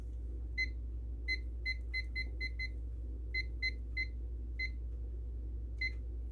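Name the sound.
kitchen timer being set, beeping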